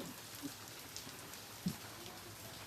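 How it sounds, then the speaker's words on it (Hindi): Steady rain falls as a continuous soft hiss, with a few faint drip-like taps, heard alone at low volume. "बारिश पकड़ी अभी"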